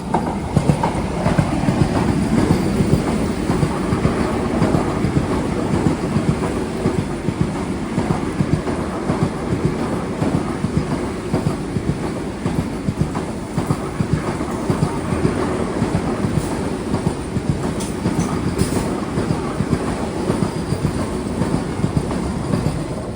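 The Thiruvananthapuram–Mangaluru Central Vande Bharat passes close by, a loud, sustained rumble of wheels and carriages with steady clickety-clack over the rails throughout.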